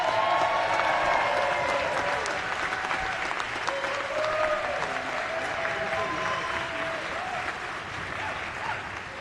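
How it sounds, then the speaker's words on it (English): Sustained round of applause fills a legislative chamber during a House floor session, dense clapping from many hands that stays loud throughout and eases only slightly toward the end. "how about a round of applause and welcome back to Delegate Gary Simmons"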